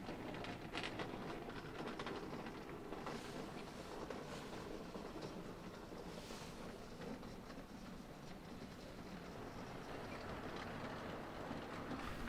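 A 00-gauge model freight train of tank wagons rolls past with a continuous clattering rumble and rhythmic clicking of wheels, fairly quiet and steady throughout.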